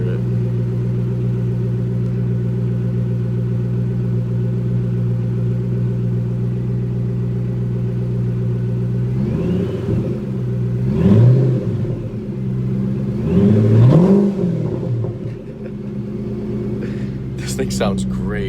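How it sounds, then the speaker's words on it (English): A 750 hp Ford GT with a Whipple supercharger idles with a steady droning rumble, then revs in several rising bursts with a whine over the engine, close by, with people talking. "this one you can really hear the supercharger on"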